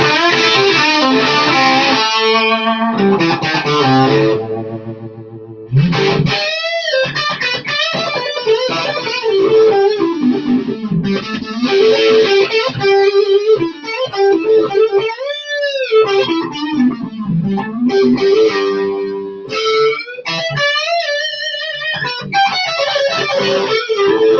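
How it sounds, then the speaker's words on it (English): An electric guitar through a couple of fuzz pedals plays sustained, buzzing notes and bends, loud and saturated, with short pauses between phrases. "See what it sounds like with a couple of fuzz boxes."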